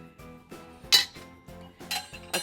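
Stainless steel kitchen tools, among them spatulas, a spoon and a sifter, clink and clatter against one another as they are handled, with a repeated rhythmic metallic rattle and a few brighter knocks, close and fairly loud.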